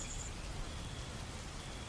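Steady rain falls on a night in a Bengali horror animation story, a continuous moderate hiss of drops on surfaces with no talking.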